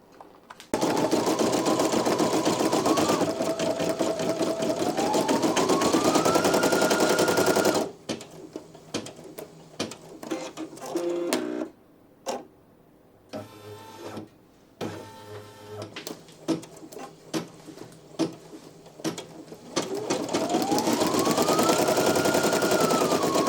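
A Brother PE-900 embroidery machine stitches out a design: a rapid, loud mechanical needle clatter with a rising motor whine. Midway it breaks into scattered clicks, thumps and quieter gaps, then the steady stitching resumes.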